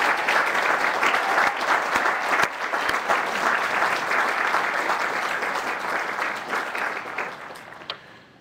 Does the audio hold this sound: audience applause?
yes